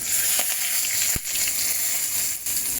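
Crushed whole garam masala and bay leaf frying in hot oil, a steady close sizzle with light crackles and a faint stir or two, no voices.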